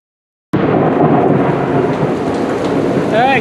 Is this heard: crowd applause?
no